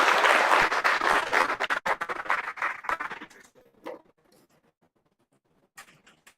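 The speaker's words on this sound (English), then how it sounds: "Another round of applause." Audience clapping at an annual gathering of the BIC Africa network, loud and dense at first, then thinning out and fading to scattered claps and near silence, with a brief late burst of a few claps.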